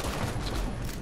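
Gunfire in a video game erupts as a loud, dense burst of harsh noise filling the whole moment, close and overwhelming.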